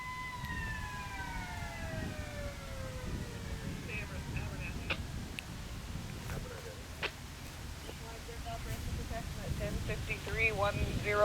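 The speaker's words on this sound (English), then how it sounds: "Not sure what the siren's for." A siren wails with rising and falling tones in the distance at a double-decked swing bridge, over steady low rumbling background noise, fading after a few seconds.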